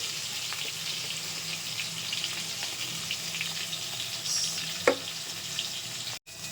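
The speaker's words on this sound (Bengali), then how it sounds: "কড়াইটাও গরম হয়ে গেছে, এতেও তেল দিয়ে দিই, এতে কুদলি ভাজাটা বসিয়ে দিই।" Oil sizzles with a low, even crackle in a hot wok as pieces of ivy gourd fry; one sharp metallic clink stands out partway through.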